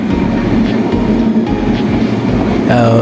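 A passenger train running from Dhaka to Dinajpur, Bangladesh, rumbles steadily along the tracks with a low, continuous roar, and a brief metallic screech rises near the end.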